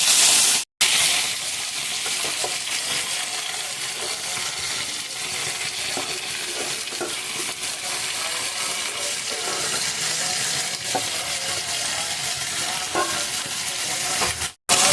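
Okra and potatoes frying in oil with nigella seeds and chilli, a loud, continuous hiss with a few soft stirring knocks, cut by brief gaps at the start and end.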